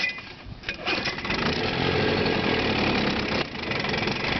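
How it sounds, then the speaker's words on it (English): A 1971 Chrysler 9.9 hp outboard motor is started and runs, giving a loud, steady, buzzy engine drone that briefly dips before settling back to a constant running note. "I just actually went through this motor yesterday, so we're going to see how she runs here"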